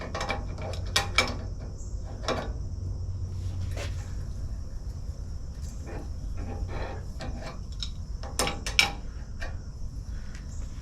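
A crescent wrench works a spindle nut on a square-body Suburban, giving a series of irregular metallic clicks, scrapes and taps close by over a quiet background, with no talk.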